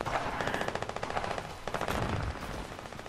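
Rapid automatic gunfire from a video game, dense repeated bursts of shots running almost continuously and fairly loud, with no voices over it.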